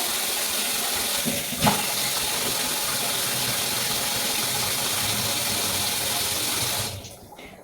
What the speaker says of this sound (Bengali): কড়াইটা ধুয়ে নিই বলো কড়াইটা ধুয়ে রেখে দিই